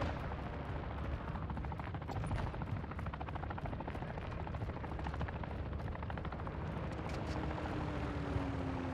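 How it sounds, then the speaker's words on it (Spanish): A cargo helicopter in Call of Duty: Modern Warfare II DMZ approaches with a dense, steady rotor thrum and broadband roar, fairly distant and continuous, with faint sharp crackles scattered through. "Helicóptero de carga en camino a la zona."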